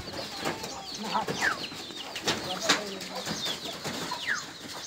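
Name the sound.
native pigeons flocking to paddy feed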